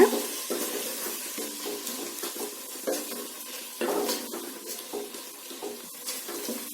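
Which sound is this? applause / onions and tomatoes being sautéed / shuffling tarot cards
onions and tomatoes being sautéed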